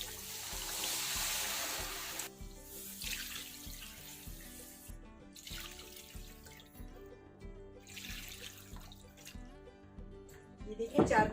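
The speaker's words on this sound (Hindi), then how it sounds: "अब हम इसमें पानी डाल देंगे। 3 गिलास चावल थे, 4 गिलास मैंने पानी के डालने हैं।" Water poured from a glass into a pot of fried rice and chicken for pulao, several separate splashing pours with pauses between them, close by, while a person talks over them.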